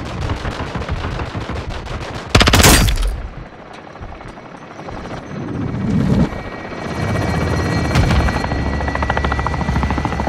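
In Call of Duty: Modern Warfare 2, loud gunfire and machine-gun bursts, including a sharp blast, crackle over the steady thrum of a helicopter, with the firing rising and falling amid continuous battle noise.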